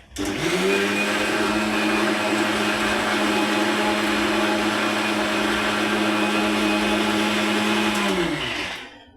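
A mixer grinder whirs steadily as it grinds curry paste with kudampuli (Malabar tamarind). The loud, continuous motor whine runs for about eight seconds before winding down.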